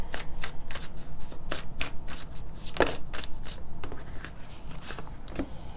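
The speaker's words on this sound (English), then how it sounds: "when I was shuffling there, I did see the Hermit card." A deck of tarot cards is shuffled steadily and up close, with quick repeated riffling and soft slaps of the cards continuing throughout, and no voices.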